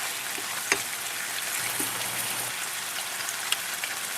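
Meatballs brown in a frying pan with a steady, dense sizzle and crackle, joined by a few soft taps and pops. The sound is close and constant, and no one speaks.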